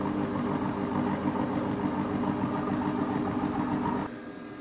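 A Compact Cook Elite food processor runs unheated at speed 3 while making a simple apple cake, giving a steady, loud motor hum with a fixed pitch that drops suddenly near the end as it stops.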